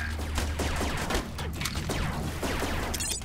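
Laser tag blaster fire in the Rec Room VR game, a rapid, continuous stream of zapping shots and clatter at steady loudness across the whole stretch, busy and layered as if several players fire at once.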